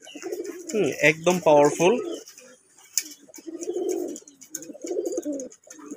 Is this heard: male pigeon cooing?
yes